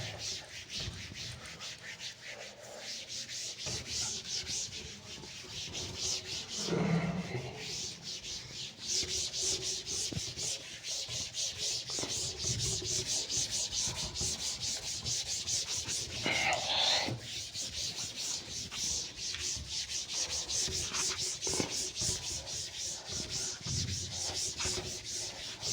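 Continuous rough rubbing as a board is wiped clean, a dense steady scrubbing noise that lasts throughout, close and moderately loud with brief pauses and slight changes in stroke.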